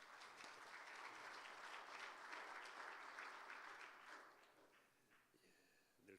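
Audience applause at a Korean church new year worship service, a brief wash of clapping from a congregation that swells, holds for about four seconds and fades out quietly.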